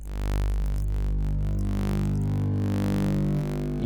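A dense, buzzing synthetic tone from a math-generated music track built for oscilloscope display, a steady loud drone with layered harmonics and flickering bright overtones, no voices.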